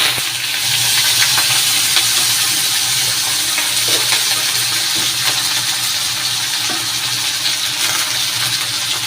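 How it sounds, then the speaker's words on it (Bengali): Chopped vegetables hit hot oil in a home kitchen and sizzle steadily, a dense continuous frying hiss with small crackles and the occasional clink of a utensil, close and loud, with no one speaking. "এই যে তেল গরম হয়ে গেছে, এই যে এইগুলো কাটাগুলো দিয়ে দেবো আবার"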